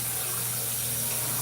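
Cold tap water pouring steadily over cooked vermicelli noodles, a brief continuous rushing gush close by.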